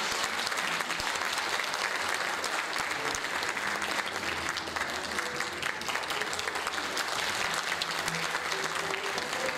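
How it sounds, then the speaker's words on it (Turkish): Concert audience applause at a Turkish classical music concert, continuous and even, filling the whole stretch at moderate distance. "Yine alkışlarınızla Gürcan Özdemir"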